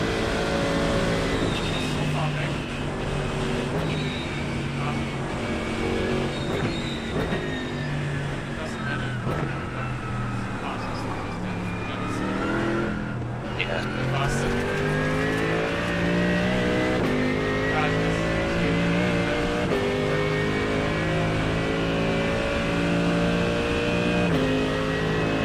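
Porsche Cup race car in iRacing during an endurance race, engine revving up through gears in rising, climbing tones with shifts and drops, loud and close throughout, with someone talking over it.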